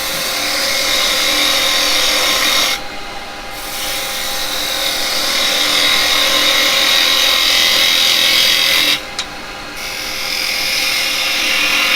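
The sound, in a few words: woodturning tool cutting firewood on a lathe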